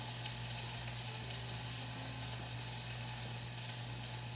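An apple pie filling with butter bubbles and sizzles steadily while it cooks, a soft continuous crackle with a low hum underneath and no voices.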